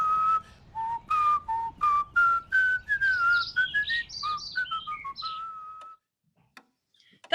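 A person whistles a quick, lively tune of short bright notes that rise and trill, then stops, leaving near silence with a few faint clicks.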